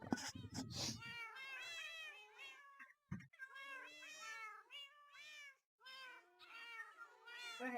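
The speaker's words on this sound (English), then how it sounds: "The cat wants to be let out." A cat meows repeatedly, wanting to be let out, in a string of loud, drawn-out, wavering cries close by, with short pauses between calls and a few brief knocks near the start.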